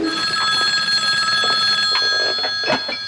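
A home telephone rings with a bright, sustained trilling tone, loud and close, continuing steadily with faint background noise beneath it.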